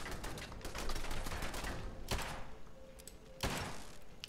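Turret gunfire in the video game Fallout 4: quick bursts of rattling shots with two sharp, louder blasts standing out, moderately quiet over a busy background, with no talking.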